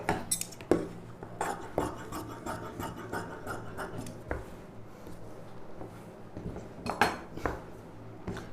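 Scissors cutting the border off a silk saree for a boat-neck blouse, a series of close, quiet snips and fabric rustles with a few sharper clicks spread across the clip.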